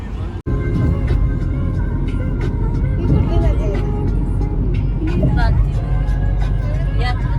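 Dense road traffic with large container trucks rumbles steadily with heavy engine drone and passing vehicles, loud and close, while people talk over it.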